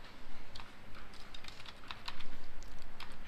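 Typing on a computer keyboard, a rapid irregular run of light plastic key clicks, close and moderately loud, with no voices.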